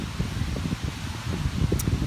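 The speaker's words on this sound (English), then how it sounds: "Sorry about the wind. I know it's probably quite noisy." Steady wind buffets the microphone in low, rumbling gusts, with a brief faint rustle near the end and no speech.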